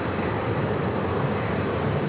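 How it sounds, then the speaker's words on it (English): A Boeing 747-400 freighter in plain livery arrives at JFK, its engines a loud, steady, continuous roar with no talking over it. "It's that plain Jane 747-400 freighter."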